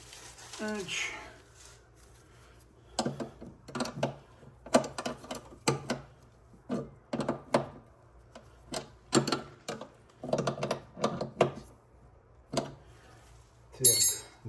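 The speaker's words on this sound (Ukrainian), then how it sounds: "тепер треба їх закрутити. Нам треба ключик на 11 і на 14." Wrenches clicking and clinking on the brake line fittings of a BMW E24 635 CSi as they are tightened with 11 and 14 mm spanners, in short irregular bursts of metallic taps close by.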